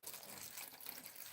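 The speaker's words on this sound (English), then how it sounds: "All right, so let's get some water in here." Water poured from a container onto dry potted seedlings during an indoor watering session, a steady close gushing splash running without a break for the whole short stretch.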